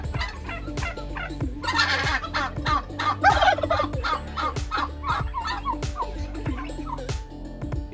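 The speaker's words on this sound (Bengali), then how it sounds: "হ্যাঁ, এখানে প্রচুর পরিমাণে টার্কি দেখা যাচ্ছে।" Pet turkeys at a forest resort gobble repeatedly in a rapid, rhythmic chorus, several birds close by and loud, with a persistent low mechanical hum underneath.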